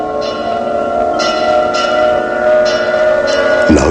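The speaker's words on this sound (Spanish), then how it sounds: "Es la campana del seminario Laquetañe" Church bell of the Laquetañe seminary, hanging at the entrance gate of the brothers' monastery, rings with sustained, overlapping tones struck at a steady rhythm, resonant and moderately loud.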